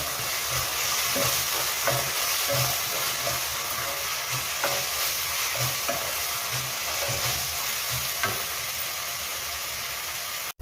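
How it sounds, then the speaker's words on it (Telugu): Cooked rice stirred into curry leaf paste frying in a pan, a continuous close sizzle with repeated scraping and tapping spoon strokes in an uneven rhythm, no talking. "ఉడికించి పెట్టుకున్న రైస్ కరివేపాకు పేస్ట్లో వేసాను కదా, ఇప్పుడు దీన్ని బాగా కలిసేలాగా చక్కగా తిప్పుకోవాలి"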